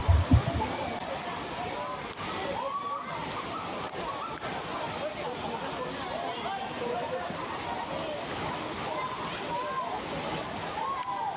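Apsarakonda waterfall near Honnavar, Karnataka: a steady broadband rush of falling water that holds an even level throughout, with people talking over it.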